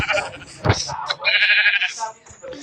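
Sheep bleat in the Minecraft video game, a few short nasal bleats in quick succession mixed with game effects and a voice talking over them.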